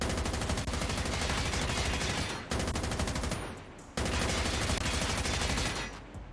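Rapid continuous bursts from the Chopper machine gun in Call of Duty Mobile, loud and close, firing in long sustained strings broken by brief gaps, with no voices over it.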